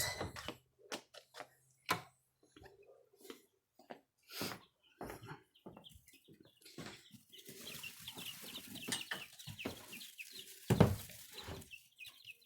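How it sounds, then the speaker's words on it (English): Newly hatched chicks peep on a mountain homestead, a busy stream of high, close chirps that starts sparse and grows denser, with rustling and scuffling beneath. "let me show you what did hatch out"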